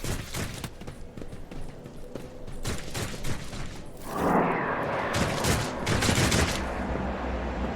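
Gunfire in the video game Warhammer 40k Rogue Trader, with volleys of sharp shots and crackling bursts. A louder, denser barrage swells midway through.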